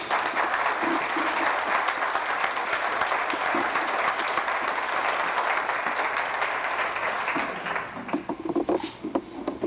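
A large audience at a community gathering applauds in a steady, dense patter of clapping that holds for most of the stretch before breaking up into looser claps near the end.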